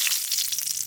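Cumin seeds hitting hot oil in a pan, a brief bright close sizzle crackling evenly, no voices.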